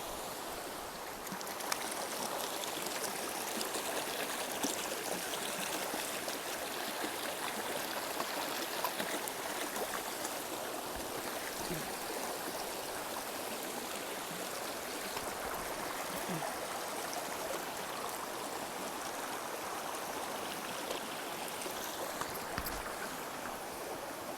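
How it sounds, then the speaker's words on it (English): A stream crossing on the Appalachian Trail in Vermont gives a steady, close rush and babble of flowing water, continuous and fairly loud, with a few small splashes and knocks. "this is the second water crossing that I have today"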